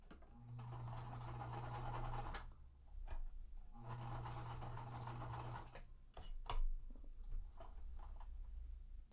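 A domestic sewing machine stitches quilt blocks in two sustained runs of steady whirring, each a couple of seconds long, separated by pauses filled with soft handling clicks and fabric rustle, close and moderately loud with no talking.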